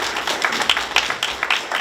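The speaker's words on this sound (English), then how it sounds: "Let's give a hand of applause for Mr." An audience applauds a founder of a book-donation program at an event held at a correctional center, with a steady spread of claps and some sharper individual hits throughout the short stretch.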